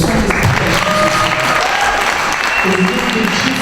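A church congregation applauding, loud and close, a dense wash of clapping with voices talking and calling out over it the whole time.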